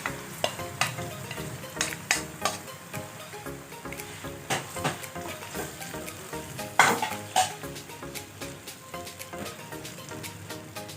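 Fresh tomatoes hit a hot frying pan for rigatoni sauce, sizzling steadily while a utensil stirs and scrapes against the pan in repeated clinking strokes, close and moderately loud.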